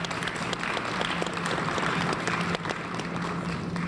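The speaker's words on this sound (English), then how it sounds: "Please join me in a round of applause." At a university Founders' and Honors Awards Convocation, an audience claps in a brief, steady round of applause, moderately loud, with a low hum underneath.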